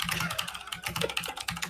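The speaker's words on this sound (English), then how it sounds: "I forget how loud my stupid keyboard is" Loud, rapid computer keyboard typing, a dense run of close key clacks with brief pauses, heard alone.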